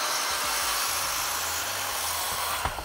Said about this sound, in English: We're just gonna use our skill saw and cut it out.